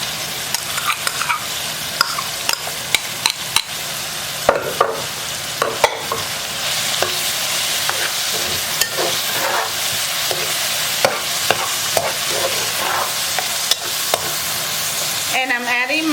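Pork frying and sizzling in a pot while a spoon stirs through it with cilantro and garlic added, a steady loud sizzle with scraping stirs throughout and no talking.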